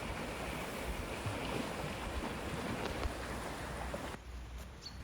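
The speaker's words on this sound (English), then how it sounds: "river is running like a beast" A river in Padley Gorge, swollen after heavy rain and flooding, rushes in a steady, dense roar that fills the whole stretch, loud and continuous with some wind buffeting, easing slightly near the end.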